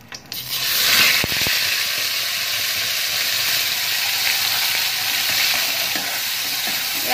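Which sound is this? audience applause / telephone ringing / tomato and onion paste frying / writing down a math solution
tomato and onion paste frying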